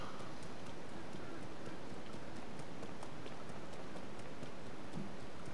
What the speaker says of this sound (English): It is fucking raining again!